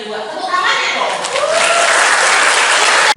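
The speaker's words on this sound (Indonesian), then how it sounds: "Yang kedua, tepuk tangannya dong." Loud, dense audience applause at a student political event in Indonesia, sustained and steady for about three seconds before stopping abruptly, with faint voices mixed in at the start.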